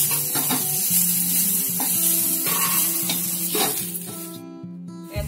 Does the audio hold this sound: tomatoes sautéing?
yes